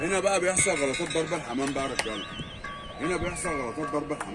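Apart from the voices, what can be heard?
No everyday noise stands out behind the speech.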